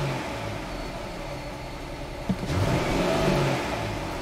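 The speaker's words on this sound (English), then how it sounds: "So now I'm gonna accelerate, so let's snap it." A Dodge Charger with a flashing electronic throttle body light and code P2173 has its throttle snapped; the engine's steady hum swells midway into a louder, sustained rev that climbs only sluggishly.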